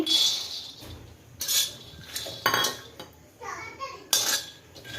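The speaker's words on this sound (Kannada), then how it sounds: "ಚೆನ್ನಾಗಿ ಹುರ್ಕೋತಾ ಇದ್ದೀನಿ" Peanuts roasting in a pan at home are stirred, making close clinks and scrapes of the spoon against metal in irregular bursts, with soft rattling and faint background sounds between them.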